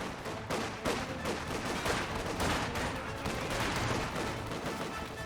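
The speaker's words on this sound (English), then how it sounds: "Conscripts engaging from the flank." Conscript infantry trade rifle and machine-gun fire in Company of Heroes 2, a loud, continuous fusillade of overlapping shots and bursts with no pause.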